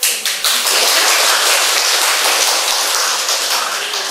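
A church congregation applauds during a Sunday morning service, a dense, steady patter of clapping that starts abruptly and holds loud and even throughout, with no voices over it.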